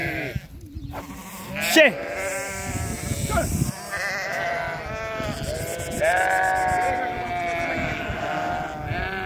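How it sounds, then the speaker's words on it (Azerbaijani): A herd of mountain goats offered for sale bleats repeatedly, several wavering calls overlapping near and farther off, while someone talks over them. "Əsl dağ keçisi, dağ."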